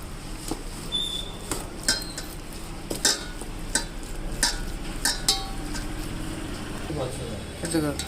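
Eggs beaten with a spoonful of corn powder in a bowl, a spoon knocking and scraping against the side in irregular clinks and taps over a steady background hum.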